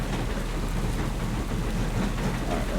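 Rain falling in the farming video game Farming Simulator 25, a steady dense hiss of rainfall with a low rumbling undertone, continuous and fairly loud with no talking.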